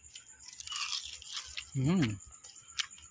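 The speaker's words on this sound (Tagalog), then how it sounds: "Crunchy." Crisp, close crunching of someone biting into fried kangkong (water spinach) chips, a short burst of crackling bites set against background chatter and voices.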